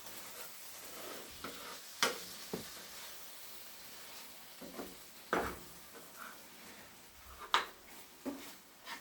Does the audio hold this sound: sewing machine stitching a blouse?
no